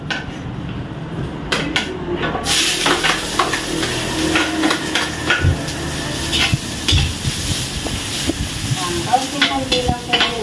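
Ginger sizzling in a little cooking oil in a pan, a loud steady frying hiss with scattered utensil clinks and stirring scrapes, a voice speaking now and then over it.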